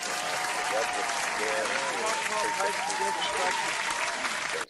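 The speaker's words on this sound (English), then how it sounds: "can we get some hand claps on that? Hell yes, we can get an applause." An audience claps and applauds at a live political talk event. Sustained, dense clapping fills the whole stretch with voices mixed underneath, then cuts off abruptly at the end.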